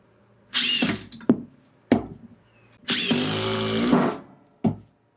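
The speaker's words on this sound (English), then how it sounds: "they all drive in small screws so fast that there's basically no difference between any brand" A Makita 40V TD002G impact driver drives small screws in short, loud bursts: three quick hits, then a longer rattling run of about two seconds, then a final brief burst, with quiet gaps between.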